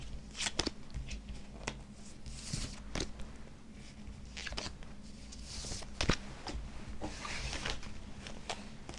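Tarot cards are shuffled and drawn by hand during a Thai love reading, giving a continuous close papery rustle and flicking with sharper slaps and taps scattered throughout, no voice.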